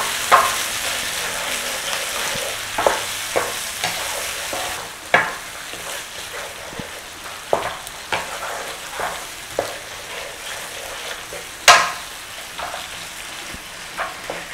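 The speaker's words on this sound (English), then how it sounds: "In with our tomato paste. Give a little stir in there." Tomato paste stirred into a frying chicken jalfrezi curry: a continuous sizzle punctuated by repeated scraping and clacking strokes of a spoon against the pan, some sharp and loud, with no talking.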